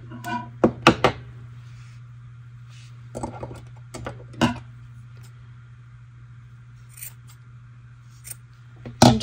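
Scissors trimming crochet yarn fringe strands on a shawl: a handful of sharp, close snips in small clusters, spaced apart over a steady low hum.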